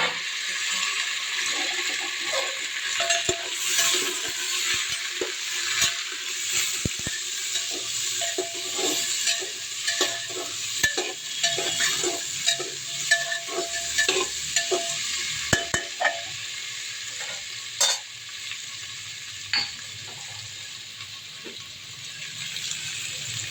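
Potatoes and jackfruit seeds frying in mustard oil in a pressure cooker, a continuous sizzle broken by frequent sharp clinks and scrapes of stirring, close and fairly loud.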